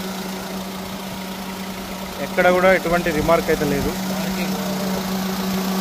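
A used Toyota Etios Liva idles quietly with the AC on and its fan running, giving a steady low hum throughout while someone talks over it in the middle.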